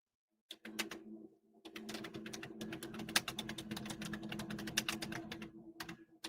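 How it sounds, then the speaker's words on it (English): Rapid clicking of keys on a computer keyboard, a quiet, steady burst of typing after a short pause, with a faint cooing pigeon in the background. "The typing's not cutting out."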